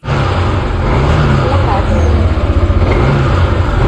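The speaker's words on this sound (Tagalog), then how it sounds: "Pagkatapos malubat ng 2 battery, tsaka siya nag-start." Yamaha SMAX 155 scooter engine starting after two battery swaps and then idling steadily, a close, loud, continuous motor rumble with a fast pulsing beat throughout.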